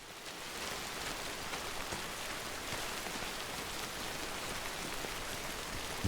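Rain falling in the video game Death Stranding, a steady, even hiss of drops pattering on surfaces, soft and unbroken throughout with no talk.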